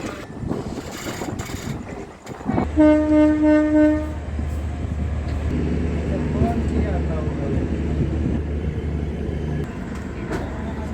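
An Anand Vihar–Saharsa passenger train in India rumbles steadily along the tracks beneath the Lucknow Metro, with a brief horn blast partway through and a continuous low roar of wheels and wind.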